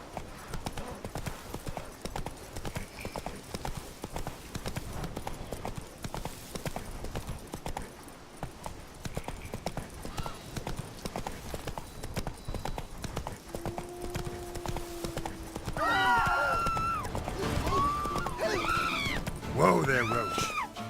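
Roach, a horse in The Witcher 3: Blood and Wine, trots along with a steady rhythmic clip-clop of hooves that runs the whole time, while voices talk over it and game music and cries rise near the end.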